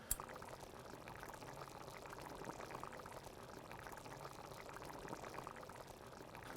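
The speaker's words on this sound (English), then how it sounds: "I have to simmer this at least 30 minutes" Lamb stew simmering steadily in a pot, a soft continuous bubbling hiss with gentle irregular pops, fairly quiet and even throughout with no talking.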